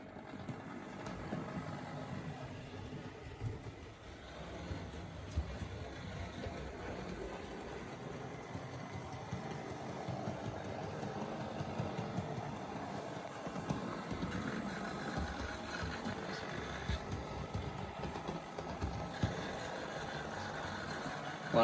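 A Bachmann Class 37 model locomotive in Railfreight Metals sector livery runs in on DC power, giving a steady, continuous motor whirr and track rumble at an even level throughout, with no talk.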